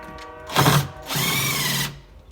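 A power drill drives 3 1/8 inch GRK trim head screws through wooden shims into a cleat while installing an exterior front door: two close whirring bursts, one short and one longer, with no talk.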